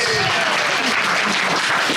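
A live podcast panel audience breaks into loud, continuous applause, dense and enthusiastic, with some crowd noise mixed in.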